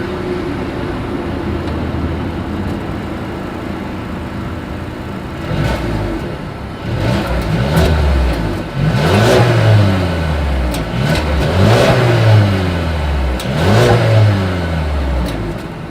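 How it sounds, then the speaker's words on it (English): Mercedes A220 exhaust heard from outside as the engine idles, then revs in a series of sharp blips that rise and fall, loud and close, with no talk. "As always, here is that exhaust clip."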